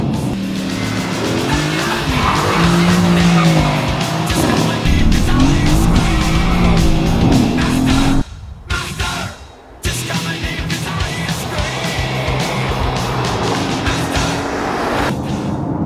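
A Mercedes-AMG GT sports car drives hard with a steady, loud engine note and squealing tyres, the sound cutting out briefly partway through before resuming.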